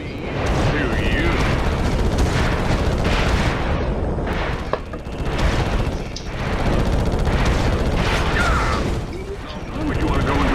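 Missiles fire in a Ratchet and Clank space fight video game as booming blasts and explosions stack up in dense, continuous bursts, while a player talks over the action.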